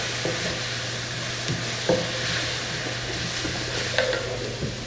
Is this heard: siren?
no